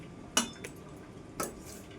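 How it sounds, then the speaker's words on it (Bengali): A couple of metallic clinks as a wok is set on the stove among utensils, one early and another about a second later, close by with quiet kitchen background. "কড়াই বসিয়ে দিয়েছি"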